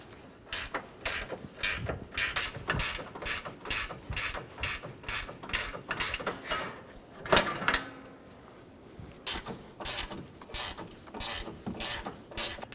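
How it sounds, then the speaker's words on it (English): Quick bursts of ratchet wrench clicking sound up close as a worker backs out 10mm radiator bolts on a 2007-2011 Toyota Camry 2.4L four-cylinder, with repeated strokes separated by brief pauses. "We're going to remove this 10mm bolt."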